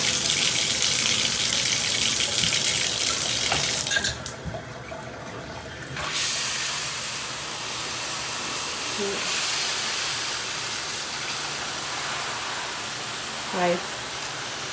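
Water hisses and sprays from a homemade shower head, a loud broad rush that cuts off and returns, with a few faint splashes and clunks in a tub between bursts.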